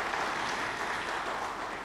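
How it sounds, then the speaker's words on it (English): Audience clapping after a thank-you at a university policy lecture on climate action, a steady dense wash of many hands at moderate-to-faint level, continuous through the short stretch with no voices on top. "Let's clap for him."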